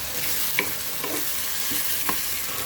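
A sandwich stuffing of capsicum with soy sauce, tomato sauce and green chilli sizzles in a pan while being stirred, giving a steady hiss with a few soft scrapes of the spoon.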